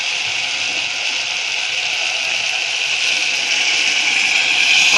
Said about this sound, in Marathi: आणि आता पाणी ओतून घेऊया आपण